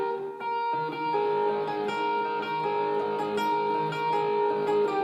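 An electric guitar with heavy distortion rings out sustained notes played in the original chord shape, so the tones clash and blur together in a dense, continuous wash with no talking.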